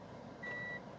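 Steady electronic reversing beep from a Mitsubishi RVR in reverse gear, a single clear tone over a low idling hum, heard up close.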